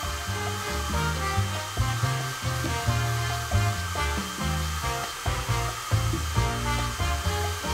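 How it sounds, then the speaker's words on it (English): A hair dryer blows continuously on epoxy resin with a steady rushing whir, while background music plays underneath throughout. "Now take the hairdryer and start carefully blowing on the waves"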